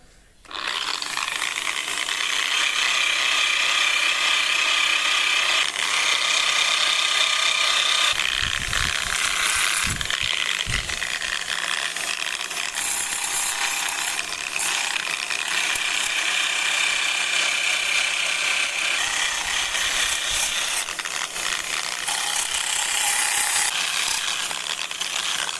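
A sanding disc polishes a carved granite relief of the Carmelite shield, giving a steady, loud whirring grind with a high rasp that runs unbroken throughout, plus a few brief low knocks in the middle.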